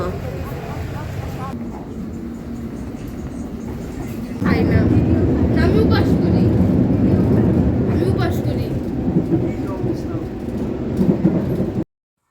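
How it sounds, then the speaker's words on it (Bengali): A train rumbles loudly at a London station, its low drone swelling partway through, with people talking nearby. "এখন ট্রেন ধরবো এই যে সামনে ট্রেনের স্টেশন"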